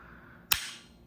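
Trigger of a Daniel Defense DDM4 PDW gas blowback airsoft rifle breaking with no take-up, a single sharp crack with a brief hiss tailing off, close and clear with no talk.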